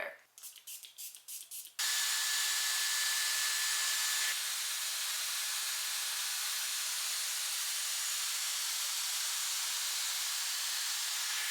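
A Dyson AirStraight hair straightener blows a strong, steady rush of air while straightening frizzy hair, continuing loud and unbroken for about ten seconds after some brief rustling at the start.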